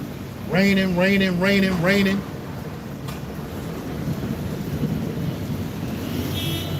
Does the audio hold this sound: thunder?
yes